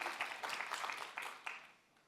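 Audience applause at a talk on inclusive employment of people with disabilities: a brief burst of moderately quiet, dense clapping that tapers off after about two seconds.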